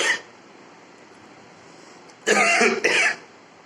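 Two harsh coughs in quick succession, close and fairly loud, standing out against a quiet background.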